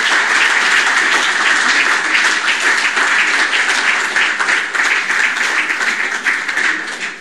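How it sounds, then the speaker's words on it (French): Sustained, loud audience applause at a decoration award ceremony, dense even clapping that holds steady for the whole stretch and thins slightly at the close. "à Rodrigue Millien, sous vos applaudissements, s'il vous plaît"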